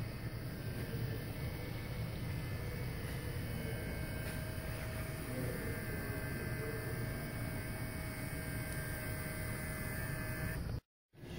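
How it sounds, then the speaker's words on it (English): Electric water pump of a BMW 335i E90 with the N54 engine running during a coolant bleeding procedure after a radiator install, a steady, faint mechanical hum and whir that continues evenly and then cuts off abruptly near the end. "You can hear the electric water pump going right now."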